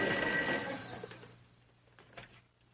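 A telephone bell rings loudly and sustained at first, then trails off into a quieter background with a few faint knocks.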